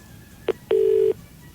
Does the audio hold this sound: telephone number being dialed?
yes